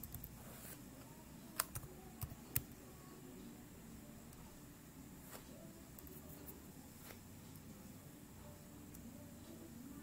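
Soft keyboard typing as an email address is entered, with a quick burst of crisp key clicks early on and fainter tapping after, all quiet against a steady hiss of room noise.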